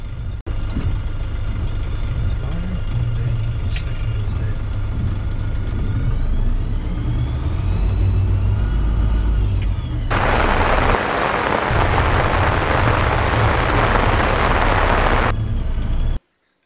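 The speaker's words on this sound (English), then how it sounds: "all you had to do is pretty much just leave it in second low and let it idle through those ruts" A GAZ Trackmaster tracked vehicle idles through ruts in second low, a heavy continuous engine drone and rumble with clanking, then a loud broadband roar for several seconds before it cuts off, no talk.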